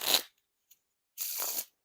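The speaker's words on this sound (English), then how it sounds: "no issues with the riffle shuffles or bridge shuffles because all three of those were pretty smooth" Two quick riffle-and-bridge shuffles of a Bicycle playing card deck, each a short crisp ripple of cards, close and clear with a brief pause between.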